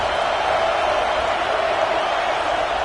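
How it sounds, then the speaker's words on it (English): A home stadium crowd in College Football 26 roars steadily throughout, a dense and continuous wall of cheering at the same level from start to finish with no break. "how nice is it to have the home crowd going absolutely bananas?"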